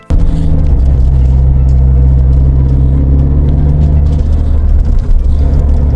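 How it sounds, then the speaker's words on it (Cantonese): A Suzuki Jimny 4WD drives with a loud, steady low engine rumble heard close up from inside the vehicle, the drone holding evenly throughout with no voices. "今日呢一部咧就係 Suzuki 嘅 Jimny 4驅車嚟㗎"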